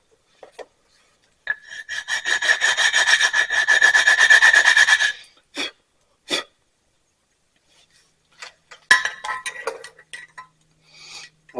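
Brake pads for a 2015 Chevrolet Silverado are rubbed together by hand, giving a sustained gritty scraping for a few seconds, then several short rasps and scattered scuffs, close and loud with quiet gaps.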